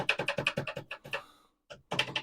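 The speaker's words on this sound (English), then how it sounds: "Oh, the keyboard." Keys tapped on a Commodore PET computer keyboard in a quick run of close, crisp clicks, followed by a short pause and then another burst of rapid keystrokes.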